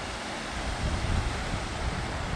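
A mountain stream in the snowy Uintas running high with fall snowmelt, giving a steady, continuous rushing wash of water that stays even throughout.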